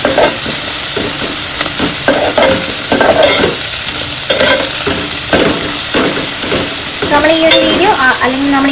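Chopped onions sautéing with a steady close sizzle in a pan while a squid roast is being cooked, with occasional stirring scrapes and faint bursts of background music near the end.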